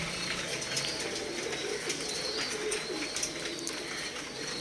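A flock of pigeons coos softly and continuously at a moderate distance, with a few chirps mixed in and faint background noise, and no one speaks.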